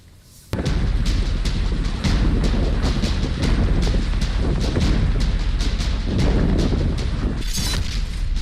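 Missile strike explosions hit oil depots in Ukraine: after a quiet opening, a loud blast rises into continuous heavy rumbling, broken by rapid repeated sharp bangs and pops throughout.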